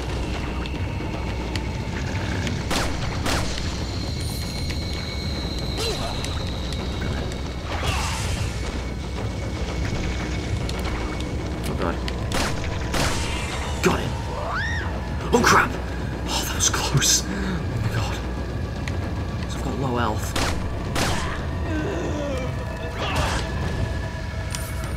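Gunfire and explosions from the Resident Evil 4 video game, sharp bursts scattered through dense game noise and music, with people talking over much of it.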